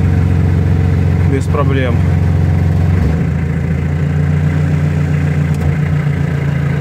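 A homemade tractor's engine idles steadily while lifting a 500 kg load, a constant close low rumble running throughout, with someone briefly speaking over it.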